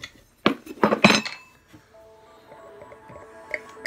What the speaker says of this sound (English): Let's go ahead and get it open and get into a glass and see how this one goes.